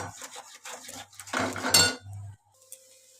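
Bottle gourd peel being stirred in a pan, a spoon clinking and scraping against metal in short bursts, then a brief lull and a few faint taps.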